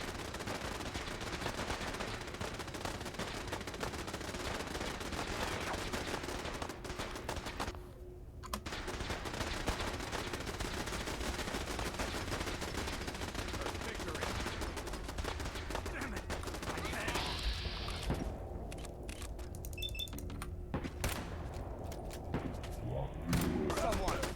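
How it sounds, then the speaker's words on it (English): Rapid bursts of gunfire in the video game Fallout 4 crackle almost continuously, with machine-gun rattles and thuds. A person talks over the chaotic shooting. "There's so much gunfire happening."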